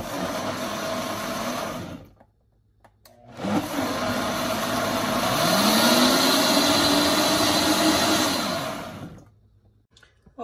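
An electric blender grinds walnuts for atole: a short burst, a pause, then a long, loud whirring run whose pitch sweeps as the blades bite through the nuts, before it cuts off.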